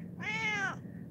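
A cat hiding under a bed gives a single clear, drawn-out meow, close and alone, with no talking over it.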